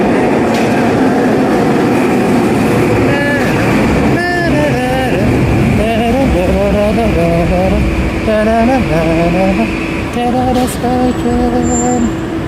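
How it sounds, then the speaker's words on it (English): A Vancouver SkyTrain pulls in on the Millennium Line, loud and close, with rising and falling electric motor whine, rumbling wheels and rail squeal, and a voice talking over it. "Here comes the SkyTrain."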